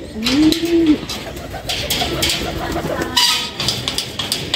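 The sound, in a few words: pigeons cooing in a pigeon loft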